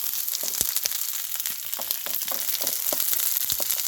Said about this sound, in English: I'll whack my nettle in there. And then straight away put the egg in, because the nettle doesn't need long to cook.